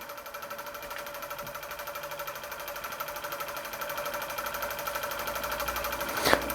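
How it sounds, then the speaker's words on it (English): A scratch-built Mamod-style oscillating model steam engine runs at moderate speed on a small burner-fired boiler, giving a steady, rapid mechanical chatter that grows slightly louder toward the end and finishes with a sharp click. "these oscillating engines, if you let them run, just let them run with the burner going, normally they race away at some sort of ridiculous speed"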